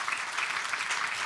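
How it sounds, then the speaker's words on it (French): An audience in a music school hall gives actress Alice Taglioni a steady, dense round of applause, many hands clapping at a moderate distance, faint and continuous. "Je vous demande de faire un tonnerre d'applaudissements pour Alice Taglioni."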